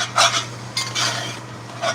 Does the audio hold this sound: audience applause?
no